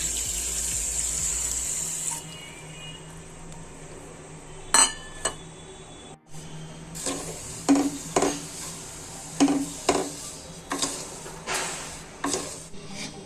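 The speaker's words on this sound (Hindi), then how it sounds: "इसी कटोरी के माप से 1/4 कटोरी पानी डालूंगी।" Water is poured into a kadhai holding a cup of sugar while cooking Mysore pak in a home kitchen: a brief bright pour, then clinks, scrapes and utensil knocks against the pan, close and without talk.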